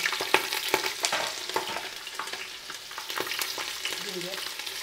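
Bay leaves with green and dry chillies crackle and sizzle in hot ghee and oil in a pan, a steady close frying hiss broken by sharp spattering pops throughout.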